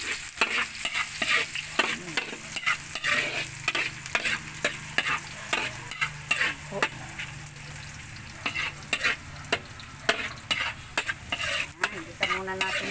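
Onion and garlic fry and sizzle in a pan for pakbet, a steady crackling hiss broken by frequent sharp scrapes of a spatula stirring the pan close by, with no voices over it.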